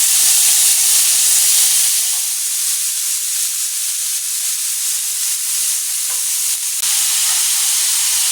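Thinly sliced, semi-frozen meat sizzles and hisses in a hot pan, a loud, steady frying crackle that quiets slightly partway through and then swells again.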